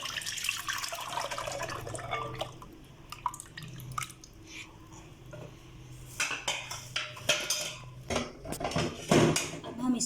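Warm custard is scraped and poured from a pan into a big bowl, with a clatter of utensils, metal knocks and wet dripping sounds growing busier toward the end.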